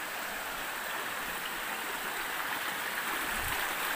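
A river flowing steadily in a mountain setting, a broad, even rush of water running close and constant, with no voices over it.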